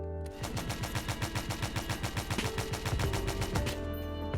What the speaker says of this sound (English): This is a light autocannon.